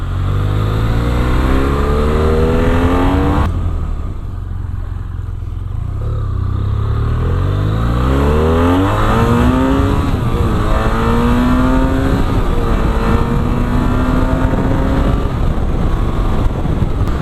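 A 2017 BMW F800R motorcycle accelerates hard through the low gears with traction control cutting in. The engine note climbs loud and close, drops off briefly as it shifts, then rises again in repeated pulls, with wind rushing over everything.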